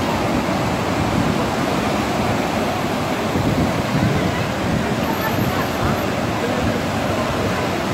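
Ocean waves from a tsunami in Morocco roar continuously, a dense broadband rush of surf mixed with heavy wind noise on the microphone, loud and unbroken throughout.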